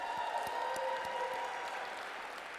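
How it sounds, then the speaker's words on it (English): Audience applause at an indoor corporate energy training event, a brief burst of clapping heard from a moderate distance, fairly quiet and fading slightly. "Clap it up for Thomas Felder"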